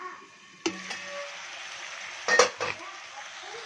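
Country rooster pepper chicken cooking in a pan over low flame, a quiet sizzle broken by a few sharp spoon-on-pan scrapes and clacks as it is stirred.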